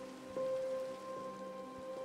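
Steady, loud rain hisses in Minecraft, a continuous wash of drops with a faint tonal hum underneath and no voices.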